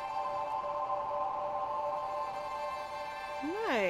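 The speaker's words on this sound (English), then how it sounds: "Resonant noise." A resonant noise patch on a PS3 synth sounds as a sustained, whistling tonal drone with ringing overtones that ends in quick rising and falling swoops.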